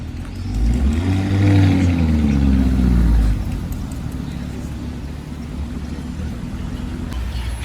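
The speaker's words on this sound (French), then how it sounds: "Urus Verdemantis qui arrive, qu'on a déjà filmé tout à l'heure" A valet drives a Lamborghini Urus SUV in to park, at night in Monaco. Its engine rumbles close by with rising and falling revs for about three seconds, then settles back into the steady background noise.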